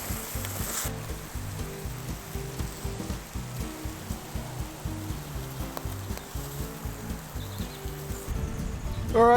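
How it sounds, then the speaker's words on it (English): Four sausages and a pound of bacon sizzle on an open barbecue grill outdoors, a steady, fairly quiet fry crackle under a low rhythmic pulsing background, with a brief louder noise at the end. "Oh, it sizzles. That's always a good sign."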